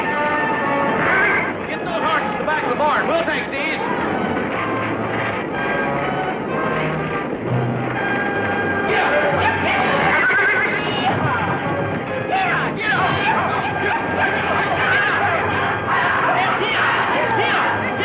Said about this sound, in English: Them horses may start sounding off again.